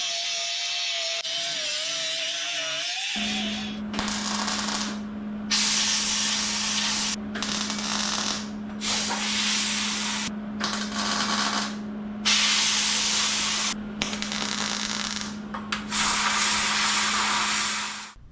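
Sheet metal is tack- and stitch-welded on a mini truck wiper cowl, with a steady hum under repeated bursts of crackling, sizzling arc noise a few seconds each, broken by short pauses, close and without talk.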